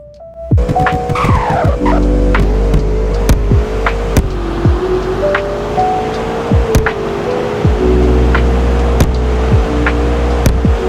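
A 2017 Agner Tormenta supercar in a video game accelerates in a straight line, engine roaring and revving hard through rising gear changes, loud and close, with tyre squeal and brief shifts between gears.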